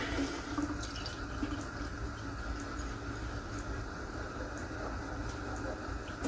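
Tap water runs steadily into a pot or kettle in a home kitchen, a continuous splashing flow with a faint hiss that holds at even strength for several seconds.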